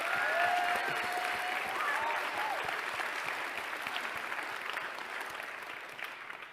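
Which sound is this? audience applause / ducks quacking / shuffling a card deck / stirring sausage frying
audience applause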